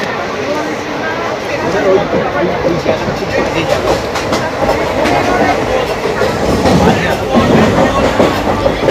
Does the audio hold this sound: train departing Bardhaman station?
yes